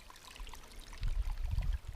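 Water collected at a mountain spring in the Chornohora ridge of the Carpathians, a soft trickle giving way to a fuller, low gurgling pour as a container fills, heard close with wind.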